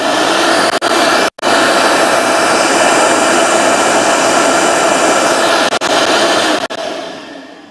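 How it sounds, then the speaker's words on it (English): A Shop-Vac wet/dry vacuum blows air out in a loud, steady, rushing roar that cuts out briefly a few times and trails off at the end, with no talking. "Got my rag and I'll show you how this thing blows out."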